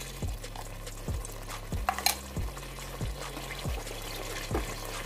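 A spoon stirs palak gosht, spinach and mutton, in a pot, with repeated rhythmic scraping strokes about every second, wet squelching and light sizzling beneath, close and moderately loud.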